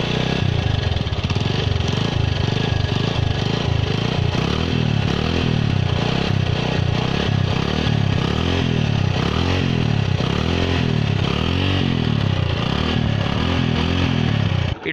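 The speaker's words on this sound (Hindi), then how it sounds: "तो अब मैं आपको इसके एग्जॉस्ट की साउंड सुनाता हूँ" 2012 Bajaj Pulsar 150 motorcycle idling and revving close up, a steady loud exhaust thrum with repeated rhythmic rises in pitch that runs without a break and has no talking over it.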